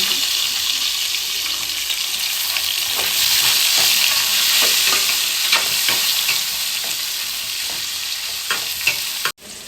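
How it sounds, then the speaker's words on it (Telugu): Onions and curry leaves frying in hot oil, a loud continuous sizzle with stirring scrapes throughout, no voices, ending abruptly. "కొంచెం కరివేపాకు కొంచెం వేడెక్కాక ఉల్లిపాయలు వేసి"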